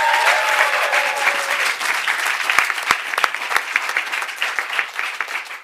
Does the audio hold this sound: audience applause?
yes